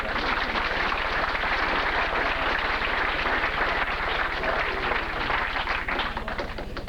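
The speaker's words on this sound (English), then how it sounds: "Let's give him a nice round of applause for that." An audience at Kim's Academy breaks into dense, steady applause, many hands clapping close and loud for the whole stretch, tapering slightly near the end.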